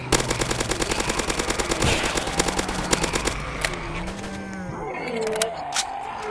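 Video game machine gun fire rattles in a rapid rhythmic burst, followed by scattered shots and game effects, loud and close, while a player speaks French over it.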